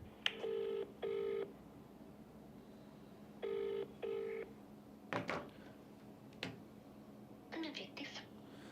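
A phone rings in two paired bursts, pauses, then rings twice more, followed by a few clicks and knocks; the ringing goes unanswered.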